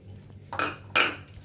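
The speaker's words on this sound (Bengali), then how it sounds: "দই দিয়ে ভাতটা আমি মাখাবো সুন্দরভাবে" Spoon mixing cooked rice with curd, two distinct scraping clinks of metal against a dish, close and clear, with no talk.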